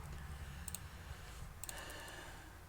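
Sparse computer mouse clicks, a few quick pairs of sharp ticks, faint and close over a steady low hum while texturing a model in ZModeler 1.07b.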